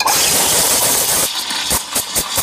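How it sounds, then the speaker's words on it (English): Steam blasts from the wand of a La Spaziale Mini Vivaldi (Lucca A53 Mini) espresso machine, a loud continuous hiss that cuts off, then sputters in short bursts. "This thing makes incredible steam."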